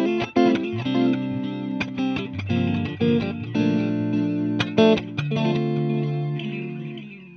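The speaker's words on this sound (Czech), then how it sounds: "Do presetu 1 já jsem si uložil delay 2290 s modulací, klasický zvuk TC Electronic" Electric guitar played through a TC Electronic Flashback Triple Delay set to the 2290 delay with modulation in quarter-note time, a sustained melodic line with repeating echoes and a chorus-like shimmer, played alone.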